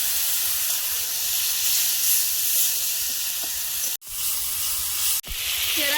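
Chopped onion and ginger-garlic paste sizzle steadily in a frying pan, a loud continuous hiss close up, broken twice by brief dips as something is stirred or added.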